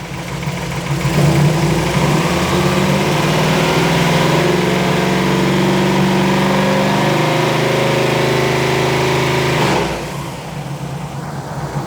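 A carbureted car engine fitted with a Holley carburetor, timing set around 40 degrees, revs up and holds at high RPM for roughly eight seconds, loud and close, then drops back toward idle, with no talk over it.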